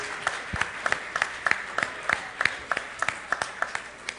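At a Jewish schools awards event, a room gives a last round of applause for the Broughton Jewish team. Steady, rhythmic clapping runs at an even pace over a soft background of crowd noise.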